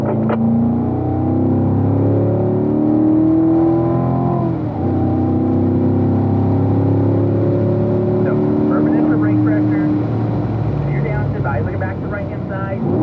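A race car engine accelerating down the track straightaway with a droning, rising pitch and one brief dip as it shifts. It stays loud and steady throughout, and a voice talks over it.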